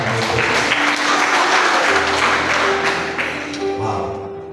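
Church congregation applauding during a Sunday morning service, a dense wash of clapping that fills the room at steady volume and tapers slightly at the end, with a sustained organ or keyboard tone underneath.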